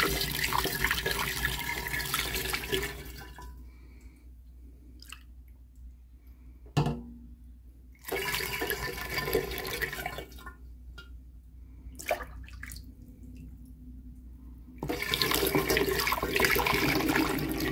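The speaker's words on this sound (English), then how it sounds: "pour into the funnel, and then maybe transfer everything over to the sink and pour in from that way." Homemade apple juice cider liquid poured from a measuring cup through a funnel at a sink, a steady gurgling stream that pauses briefly with drips and a clunk, then resumes loud and close.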